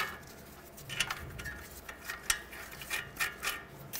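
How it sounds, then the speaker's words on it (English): Two nuts threaded onto the knuckle bolts of a 2007-2010 Chrysler Sebring front suspension during a CV axle replacement, giving a series of light metallic clicks and small clinks spaced through a quiet garage. "Put the two nuts on."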